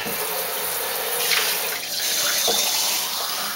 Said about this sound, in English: Maybe if I had some more clean water, I'll try that with a mug.